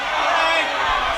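Football crowd at an Alfreton Town v Brackley Town match jeering and whistling at a player after a clean tackle, a loud, dense wash of voices filling the stand throughout.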